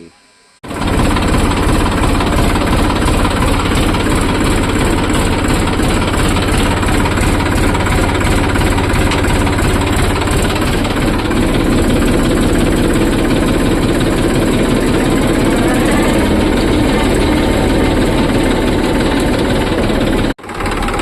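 A tractor engine driving a sprayer pump runs steadily and loudly close by, a heavy low rumble with rattling vibration, continuing without pause for about twenty seconds.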